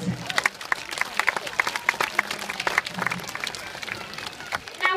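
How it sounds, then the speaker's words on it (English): Spectators at a zoo sea lion show clap in a scattered, uneven burst of applause, with crowd noise and some splashy, clattering sounds mixed in. "round of applause."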